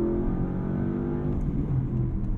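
A Porsche Panamera GTS Sport Turismo engine in Sport Plus revs steadily toward redline under hard acceleration, a loud, sustained, full-bodied drone heard from inside the cabin without speech.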